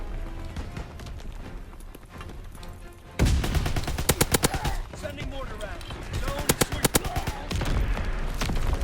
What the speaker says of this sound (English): The grease gun kind of rips.